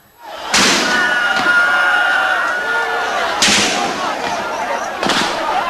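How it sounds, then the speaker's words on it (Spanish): Gunfire on a city street during the Tiananmen events in Beijing: a few loud, sharp reports at intervals over a steady roar of crowd noise and voices. "Lo que oyes son tiros."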